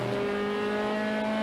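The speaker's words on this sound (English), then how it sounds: "Makes the upshift, then downshifts again." A BMW endurance race car on the Watkins Glen track runs with a steady, droning engine note at sustained high revs. It is close and loud, and no distinct shift break is clearly audible in this short stretch.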